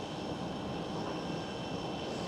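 An Eastern Airways aircraft operating for KLM Cityhopper at Schiphol gives a brief, faint, steady engine rumble with a few high tonal whines, heard alone without talk.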